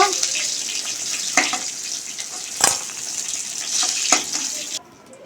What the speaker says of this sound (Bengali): আলুটা ভেজে নেব লাল লাল করে